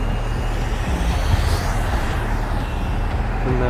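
A truck rumbles steadily past on a street, its deep engine drone and road noise holding loud and constant for several seconds with a faint airy hiss above.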